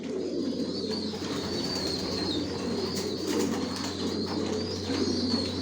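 Racing pigeons coo in a loft, low throaty calls overlapping continuously from several birds nearby, with occasional wing flutters and higher chirps above a steady background hum.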